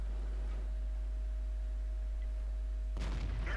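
An M48A1 Patton tank gun fires once in World of Tanks, a single loud booming blast near the end that breaks a low steady engine hum, with a faint tonal drone before it.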